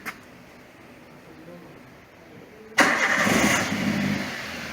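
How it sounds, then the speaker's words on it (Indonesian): A 2015 Toyota Avanza Luxury engine cranks and catches abruptly, then settles into a loud, steady idle up close after a quiet stretch. "langkah pertama adalah kita nyalakan mobil. Ya, kita nyalakan mobil."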